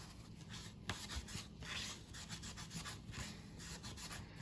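Steady scrubbing and rubbing on the plastic body of a 2002 HPI Micro RS4 1/18 RC car to remove scuffs and scratches, continuous close-up strokes with no talking.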